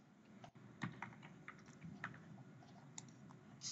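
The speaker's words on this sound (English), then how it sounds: "as you can hear from the clicking in the background" Computer keyboard typing comes through as quiet, irregular clicks and taps in the background, scattered keystrokes with short pauses, with no talk over them.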